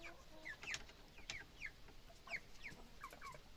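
Wyandotte chickens cluck and chatter steadily at a moderate distance in a coop, with occasional higher squawks from a yellow rooster among the flock.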